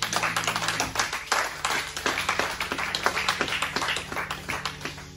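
Church congregation clapping steadily in rhythm during worship, a brisk, even beat of many hands filling a hall, sustained and lively with no talk over it.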